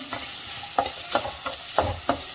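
Onions and carrots fry in a pan while a spoon stirs them, with soft sizzling broken by about six regular, close scraping strokes.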